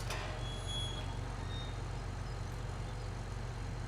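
A farm vehicle in Farming Simulator 17 drives across grass toward a field, its engine a steady, low, even drone that holds at one level throughout, quiet and without voices.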